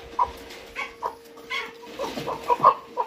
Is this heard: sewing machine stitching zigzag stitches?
no